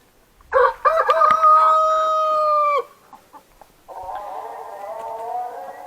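Rooster crows loudly and close by on a farm, one long drawn-out call, followed by a few short clucks and then steady hen cackling and clucking from the chickens.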